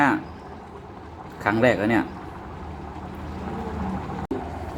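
Hot oil sizzling while cooking, a soft, continuous crackling hiss running the whole time, with a voice speaking briefly over it and a sharp click near the end.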